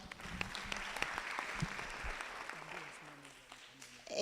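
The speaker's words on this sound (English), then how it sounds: "But let's clap for Esther." Crowd at a SACCO member education day claps in a loose, moderate burst that thins out over a few seconds, with murmured voices and a low hum underneath.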